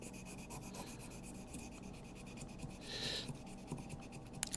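Steady back-and-forth rasping as 1000 grit sandpaper is worked over an engine rocker from a 1967 Triumph Spitfire MK3, close and rhythmic with a brief louder swipe partway through, no talk.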